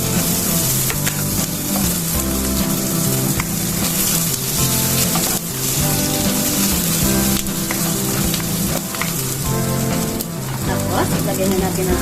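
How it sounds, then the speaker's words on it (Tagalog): Onion, garlic and ginger sauté in a hot pan for a sweet and sour pork dish, giving a steady, loud, close sizzle with scattered stirring scrapes and no pauses. "Ngayon, magigisa tayo ng ating onion at ang ating garlic. Sabayin din natin ang ating ginger."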